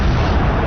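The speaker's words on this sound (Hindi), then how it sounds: "booster ignition and liftoff of Space Shuttle Columbia" Space Shuttle Columbia's booster ignition at launch: a loud, deep, continuous roaring rumble, heavy in the low end and steady throughout the short burst.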